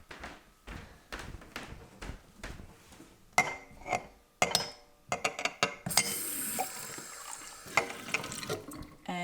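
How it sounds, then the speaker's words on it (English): Water splashes and trickles into a container in an autumn garden, starting with scattered drips and building to a steady louder pour toward the end, close by and with no talking. "So we're gonna go add some water to this now."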